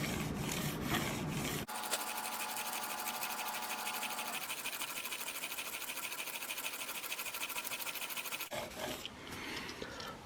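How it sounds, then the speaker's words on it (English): A DXB Big Game 3 broadhead is sharpened on a 2500 grit sharpening stone, giving steady close scraping and rubbing strokes that run continuously at moderate level for most of the stretch. "We will sharpen here until we get a burr, and then I will come back and explain it further."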